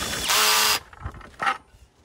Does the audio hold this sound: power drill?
yes